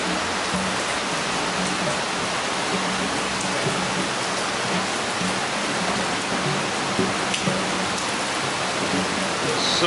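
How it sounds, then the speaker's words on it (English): Steady rain falls on a Tokyo street, a dense, even hiss of drops on pavement that holds close and constant throughout with no talk. "Some rain."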